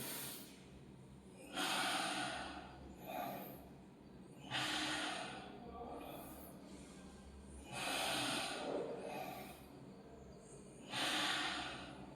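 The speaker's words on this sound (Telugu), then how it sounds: "ఊపిరి తీసుకుంటూ" Slow, deep breaths taken during a neck exercise for spondylitis: about five long inhales and exhales, heard close and alone in a quiet room.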